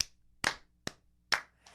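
A slow clap: four separate, deliberate hand claps spaced about half a second apart, close and crisp, with no talking.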